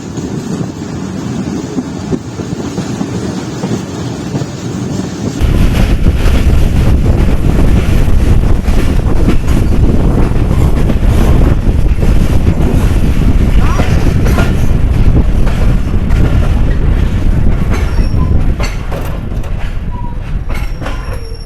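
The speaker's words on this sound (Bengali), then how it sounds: "রাজশাহী থেকে ছেড়ে দিল বরেন্দ্র এক্সপ্রেস" The Barendra Express passenger train out of Rajshahi, Bangladesh, rumbles loudly at close range with steady wheel clatter, faint squeals and microphone wind buffeting.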